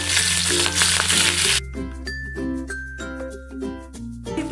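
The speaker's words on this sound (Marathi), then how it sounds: "कढीपत्त्याची पानं ही तेलावर कडक होईपर्यंत छान भाजून घेणार आहोत, जेणेकरून त्यांचा ओलावा नाहीसा होईल." Curry leaves crackling in hot oil in a pan for a Marathi chutney, a loud dense sizzle that drops suddenly into quieter popping and spitting over a background tone, no talking.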